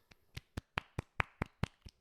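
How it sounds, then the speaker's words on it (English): Nine sharp hand claps at a steady, slightly uneven pace, close and fairly quiet, with no talking between them. "That's clapping sounds, by the way, for the audio listener."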